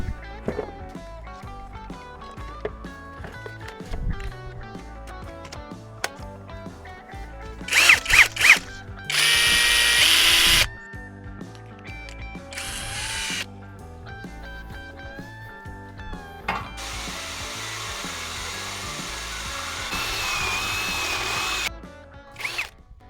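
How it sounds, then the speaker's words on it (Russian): A drill-driver attachment whirs in several bursts, some short and sharp, others sustained, boring holes through metal with a high grinding whine between quieter pauses. "вначале мы сменим модуль и насверлим отверстий в железе."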